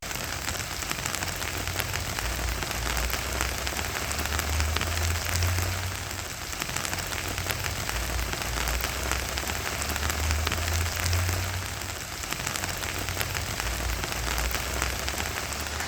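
Steady rain falls on a garden, a dense continuous hiss of drops on leaves and soil that holds at an even, moderate level throughout with no voices, joined now and then by a faint low rumble.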